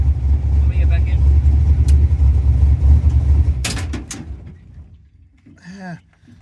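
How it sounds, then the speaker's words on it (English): A car engine idles with a loud low rumble, then shuts off. It keeps running on briefly before sputtering to a stop, and a short clunk and a faint voice follow. "Half a second of dieseling"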